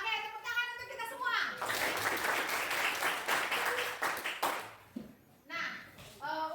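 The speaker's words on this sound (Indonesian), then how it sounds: "oke, tepuk tangan untuk kita semua." Students in a classroom break into a loud burst of group applause lasting several seconds, with a teacher talking just before and after.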